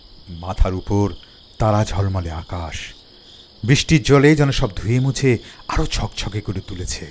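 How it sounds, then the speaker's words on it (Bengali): Crickets chirp in a steady, continuous drone on a rainy night in a tribal village near Shantiniketan, heard from a rooftop and running unbroken beneath someone speaking throughout. "ঝিঝি পোকার একটানা শব্দের সঙ্গে পেঁচার ডাক"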